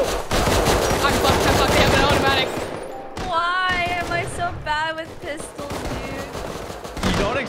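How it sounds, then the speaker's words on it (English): Pistol shots in a gun game mode of a first-person shooter, rapid bursts of loud sharp cracks fired in quick succession, with a player's voice talking briefly in between. "I can't land a shot with a pistol."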